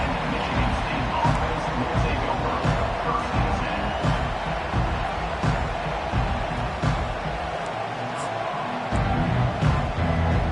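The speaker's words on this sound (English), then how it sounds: "This crowd trying to make life miserable for this offense." Stadium crowd noise from an NCAA 25 college football game rolls on as a broad, steady roar of cheering with occasional swells, mixed with commentary-style speech throughout.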